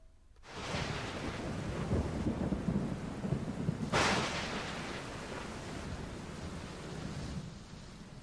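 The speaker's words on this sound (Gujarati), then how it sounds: "અચાનક ધોધમાર વરસાદ શરૂ થતા રસ્તા પર પાણી ફરી વળ્યા" Heavy downpour pours steadily on streets in Botad city, with a sharp, loud thunderclap cracking midway through the constant roar of rain; no voices.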